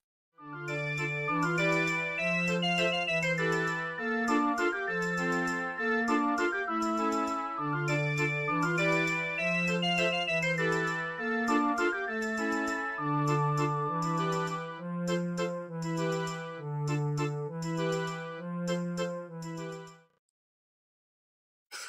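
A tune from Zelda, a bright, bouncy melody played on a plucked, music-box-like synth over a repeating bass pattern, continuous for about twenty seconds before stopping.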